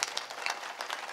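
Audience clapping during a kirtan, a short burst of brisk applause from a crowd.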